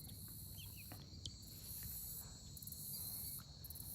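Spring peepers, chorus frogs, leopard frogs and tree frogs calling together at a pond, a dense, steady, distant trilling chorus with faint high peeps and occasional light patter.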